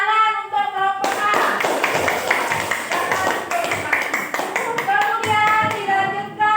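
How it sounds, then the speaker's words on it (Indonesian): Group clapping for a team in an Indonesian class activity, dense rapid claps filling the whole stretch at a loud, steady level, with children's voices mixed in. "Tepuk tangan untuk kelompok A."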